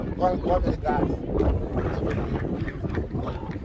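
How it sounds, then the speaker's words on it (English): Gusty wind buffets the microphone in a constant low rumble while a person speaks briefly over it. "oh, it's very windy"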